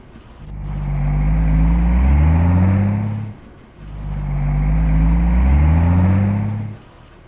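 A car engine in Arma 2 swells and fades in two long passes, revving loudly as the vehicle bounces over rough ground, with no voices.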